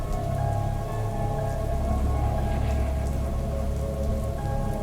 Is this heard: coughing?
no